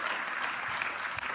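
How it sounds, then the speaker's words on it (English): Chess fans watching a Magnus versus Ian finals match clap together, a brief, even burst of crowd applause without any pause. "We definitely didn't tell them to clap on demand."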